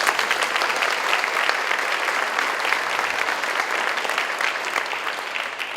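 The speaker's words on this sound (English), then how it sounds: "Can I have a round of applause for that?" Dense, sustained applause fills a banquet hall as the audience claps steadily for several seconds, with no talking over it.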